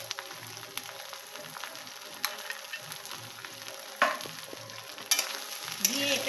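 Food frying in a pan and being stirred: intermittent scraping strokes and a few louder clatters sit over a light, steady sizzle, close by and without talk.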